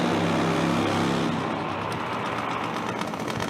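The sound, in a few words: Supertwin top fuel nitro drag bike doing a slow burnout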